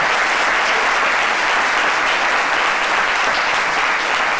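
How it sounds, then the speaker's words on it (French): A studio audience on a French midday TV show bursts into loud, dense applause, a continuous wash of many hands clapping at even strength from start to finish. "On l'applaudit très fort."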